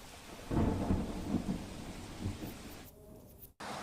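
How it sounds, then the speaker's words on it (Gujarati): Heavy monsoon rain pours down steadily in South Gujarat while a deep rumble of thunder rolls through, loud and close, before a brief break at the end. "સુરત સહિત દક્ષિણ ગુજરાતમાં ધોધમાર વરસાદ વરસી રહ્યો છે"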